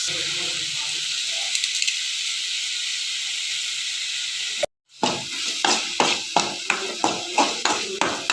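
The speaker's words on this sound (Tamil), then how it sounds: "கொஞ்சம் சால்ட் ஆட் பண்ணி நல்லா தக்காளியும் வெங்காயமும் நல்லா வதக்கிக்கலாம்" Tomatoes and onions sauté with salt in a pan while a coconut milk egg thokku is cooked, making a steady close hiss and sizzle. After a brief cut, a spoon stirs in regular rhythmic scrapes over the frying.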